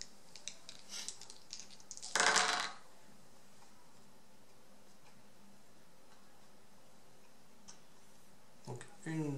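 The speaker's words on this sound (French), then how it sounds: "On va lancer 4 dés." A short burst of dice, four of them, clattering and rattling on a hard surface during a Galaxy Defenders board game, then quiet room tone with faint clicks.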